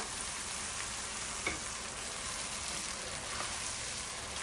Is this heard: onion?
yes